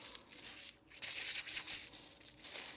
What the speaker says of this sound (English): So if I rip a piece and I crumple it up